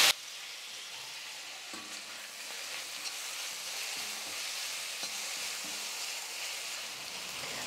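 Sliced tomato and curry leaves fry with onions for a rice-and-dal lunch dish, giving a steady close sizzle with scattered soft crackles and light stirring scrapes throughout, no voices.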